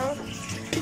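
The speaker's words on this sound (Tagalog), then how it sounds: "At pagkatapos naman ay lagyan natin ng tubig." Water splashes briefly as it is poured over a freshly slaughtered native chicken, a short close burst of running water that ends with a louder splash.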